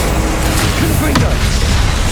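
A Confringo fire spell from Hogwarts Legacy on PS5 bursts with a single sharp blast in the middle, set against a dense, steady wash of in-game combat noise and music.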